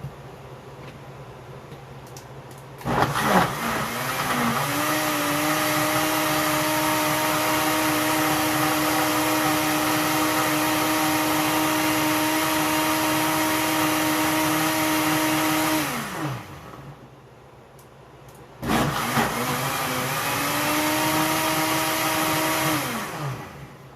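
A kitchen blender whirs steadily as it purees crushed tomatoes for a stew, a loud continuous motor drone that stops briefly and then starts again for a second run.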